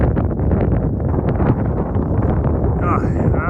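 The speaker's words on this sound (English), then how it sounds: "it's windy" Steady, heavy wind buffeting a microphone on a mountain trail, a constant low rumble that fills the clip with no pauses.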